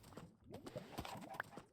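A horse gallops in the Minecraft video game, its hooves clip-clopping in a quick, even rhythm, close and moderately loud over faint background noise.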